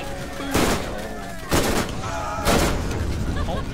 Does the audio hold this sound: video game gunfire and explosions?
yes